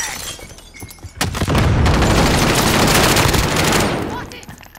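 Sustained automatic gunfire in the video game Call of Duty: Rebirth Resurgence, a dense loud burst of rapid shots rising sharply and holding for several seconds before tapering off.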